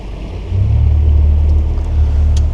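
A motor boat gets underway in Plymouth, its engine a low steady rumble that rises and settles into an even drone, close by with faint wind and water noise above.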